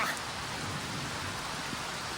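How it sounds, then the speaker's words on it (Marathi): Steady heavy first monsoon rain pours down in a village as a dense, continuous hiss with no breaks, fairly even in loudness. "भरपूर असा पाऊस चालू आहे"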